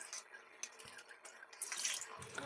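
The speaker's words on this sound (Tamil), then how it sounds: "இப்போ நம்ம அரிசியை கழுவி அது கூட சேர்த்துக்கலாம்" Rice is swished and rinsed in water at a kitchen sink for coconut milk rice, a soft, faint running and sloshing sound with light splashes, heard close and alone.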